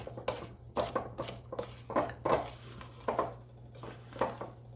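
A wooden spurtle stirs rich corn cake batter in a glass 9x9 pan, making repeated soft squishing knocks and scrapes in an uneven rhythm, close and quiet over a low steady hum.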